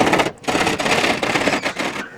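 A hand saw cuts at a corner, working the shorter side in a steady series of rasping strokes, loud and close, each stroke separated by brief pauses.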